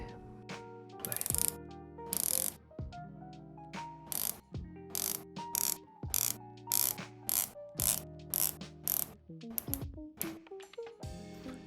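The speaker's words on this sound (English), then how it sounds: "we have a 120 clicks unidirectional coin edge style bezel. The bezel is well aligned, the edge is well finished and is easy to grip. It's also easy to rotate" A 120-click unidirectional coin-edge ceramic-insert bezel on a San Martin SN0121 dive watch is turned by hand, producing crisp ratcheting clicks in quick bursts and separate runs, close and clear with no voices.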